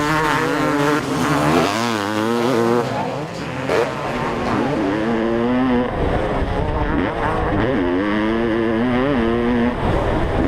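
A 1989 Honda CR500 two-stroke dirt bike races on a hillside course, its engine close and loud, revving hard in repeated rising and falling surges that shift through gears without pause.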